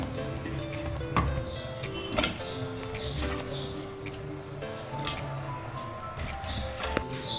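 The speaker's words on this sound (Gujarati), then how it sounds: "તો હવે આપણે એમાં બટેટા એડ કરી દઈશું." Potatoes dropped into hot salted water in a pressure cooker for boiling, for Kathiyawadi suki bhaji: a few soft splashes and plops stand out over a low, steady kitchen background.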